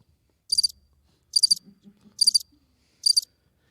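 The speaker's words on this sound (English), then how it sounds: "So we have a cricket. crickets." Crickets chirp in four short, evenly spaced bursts, crisp and fairly close, with a faint low murmur beneath and no talking.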